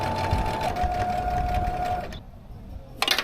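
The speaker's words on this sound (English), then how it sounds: "Now we're just gonna sew it." A sewing machine stitching a fabric reusable market bag: a steady, close mechanical hum with a fast rhythmic needle patter lasting about two seconds, then a brief quiet stop before the motor starts up again.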